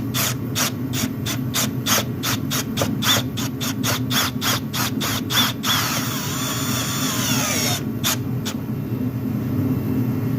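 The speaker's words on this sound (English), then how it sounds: "We'll just kind of snug up this last bolt" A tool snugs up the last bolt on a flush-mount LED bumper pod, making a fast, regular run of loud mechanical pulses over a constant droning background, broken by a brief scraping squeal before the pulses return.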